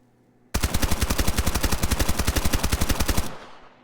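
Rapid automatic fire from an MP5 with a muzzle attachment in the shooter game Escape From Duckov: one loud, steady burst of closely spaced shots lasting nearly three seconds, then an abrupt stop, with no talking.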